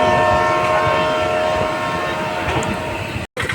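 A passenger train pulling away from a station, its steady rolling rumble joined by a sustained tonal horn-like drone, loud and close, ending with a brief cutoff.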